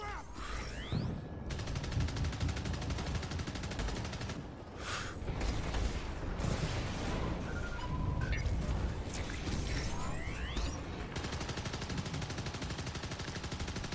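Sustained heavy gunfire and explosive bursts aimed at tanks in the Arcangel video game, loud and continuous with dense overlapping shots and crashes.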